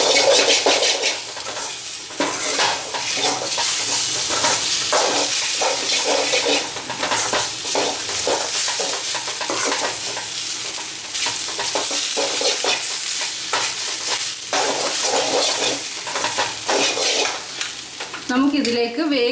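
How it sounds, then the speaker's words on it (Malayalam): Chili and coriander powder sautéing in hot oil for a Vishu sambar, a steady broadband sizzle with frequent scraping stir strokes and clinks against the pot throughout, close and loud with no talk. "മുളക് പൊടിയുടെയും മല്ലിപ്പൊടിയുടെയൊക്കെ പച്ചമണം മാറുന്നിടം വരെ നമുക്കൊന്ന് വഴറ്റിയെടുക്കാം."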